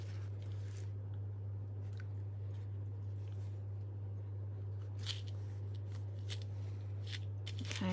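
Stacked 12-inch papers, held together with a clip, are shuffled and handled at close range, giving soft rustling and scattered crisp flicks over a steady low hum, with no talking.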